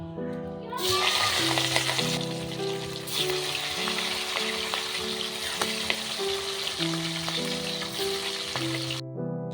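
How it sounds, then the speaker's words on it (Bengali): Catla fish pieces fry in hot mustard oil in a kadai, a loud, continuous sizzle close by with scattered pops and stirring scrapes, while a steady musical tone runs underneath. "তেল গরম হয়ে গেছে এবার মাছ কটা ভেজে নেব"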